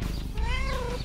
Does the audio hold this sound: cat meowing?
yes